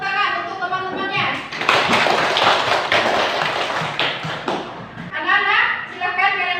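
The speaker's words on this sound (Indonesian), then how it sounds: "Tepuk tangan untuk teman-temannya" A classroom of children claps for their classmates, a dense burst of many hands lasting several seconds, with a voice and talk before and after the applause.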